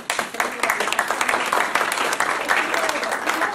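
A school open house audience applauds the staff, a steady dense round of clapping that carries through to the end.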